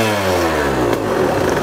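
A standard 125cc two-stroke motocross bike engine, KTM 125 SX or Yamaha YZ125X, idles close up with a steady, smooth buzzing drone and rich harmonic tone that rises slightly in pitch, loud and alone without talk.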